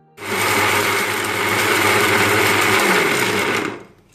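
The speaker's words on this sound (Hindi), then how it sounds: "इन सबको हम थोड़ा इसमें दरदरा कर लेंगे मिक्सर के अंदर" A kitchen mixer grinder coarsely grinding pistachios and other nuts for a mawa gujia filling, running loud and steady with a high whirring drone for about four seconds before cutting off.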